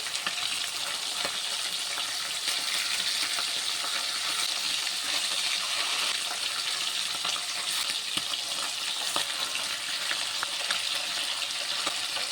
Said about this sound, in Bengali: এখন আমি ইলিশ মাছটি ভেজে নেব